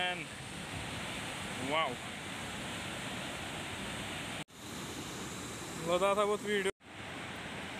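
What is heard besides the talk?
Aharbal waterfall, Kashmir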